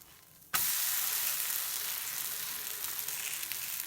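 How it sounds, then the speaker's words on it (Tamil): A carrot and onion dosa, just flipped onto a hot pan, bursts into a loud, steady sizzle that starts abruptly and then holds at an even hiss. It is close and heard alone, with no talking. "இப்போது திருப்பி விட்டுக்கலாம்."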